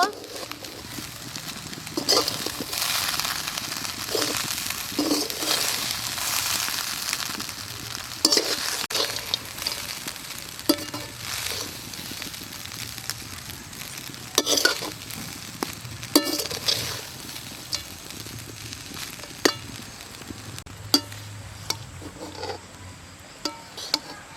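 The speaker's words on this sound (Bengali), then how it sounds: "ভেজে রাখা সমস্ত সবকিছু মশলা, সোয়াবিন আমি দিয়ে দেবো। নেড়ে নেব।" Fried spices and soybean chunks stirred together in a pan for soybean rice, with repeated scraping strokes of the spatula over a light sizzle, close by and continuing at an uneven rhythm.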